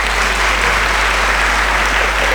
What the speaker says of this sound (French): Merci de l'applaudir encore.